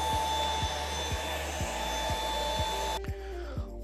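An Ultenic U10 cordless stick vacuum cleaner runs with a loud, steady high whine and regular rhythmic ticks, then cuts off abruptly near the end, leaving a low hum.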